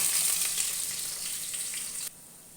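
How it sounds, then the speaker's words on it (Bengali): A loud, close hiss of potatoes frying in a pan, steady for about two seconds before abruptly dropping to a quieter sizzle. "আলুগুলো হালকা ভাজা হয়ে গেছে"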